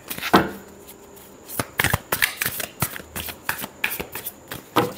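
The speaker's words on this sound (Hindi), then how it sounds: "last shuffle" A deck of tarot cards being shuffled by hand, close up, in a string of quick riffling snaps and slaps with short pauses between bursts and no talk.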